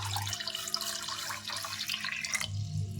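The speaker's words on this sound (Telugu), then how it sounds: "2 గ్లాసెస్ వాటర్ యాడ్ చేస్తున్నా" Water pours into a pot for making rosemary water, a close splashing trickle with a brief louder gush near the end, no talk.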